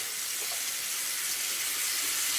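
A paintbrush is rinsed under a running tap, a steady faint hiss of flowing water heard close and alone throughout.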